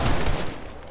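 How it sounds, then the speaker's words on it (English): Short loud burst of assault rifle fire in a Fortnite box fight, a quick cluster of shots fading within a second, no talking. "They're just spamming their AR on me"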